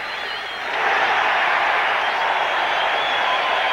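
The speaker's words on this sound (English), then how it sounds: "This crowd's wild here." Stadium crowd at a 1984 Mets home game against the Astros erupts after a strikeout, a sustained roar of cheering and applause that swells sharply and holds loud throughout.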